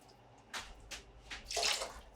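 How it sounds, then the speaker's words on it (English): Water is splashed into a pot of French onion soup from a container, a few short close pours and sloshes building to a longer gurgling stream, with no voices. "Sometimes I put a little water in it to get every drop out"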